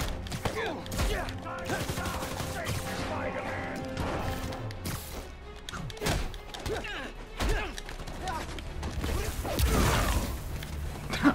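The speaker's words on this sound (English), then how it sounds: "just like this freaking gunfire, dude" Gunfire and combat in the Spider-Man: Miles Morales video game, a busy stretch of crashes, thuds and bursts of impacts with mechanical clatter, loud and continuous throughout.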